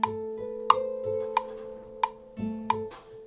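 Bella Ciao played on an instrument in GarageBand on an iPhone with bass, treble and reverb raised: evenly spaced plucked notes with ringing tails over a sustained lower tone, clean and alone at moderate volume.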